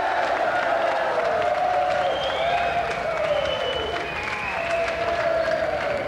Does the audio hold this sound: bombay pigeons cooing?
no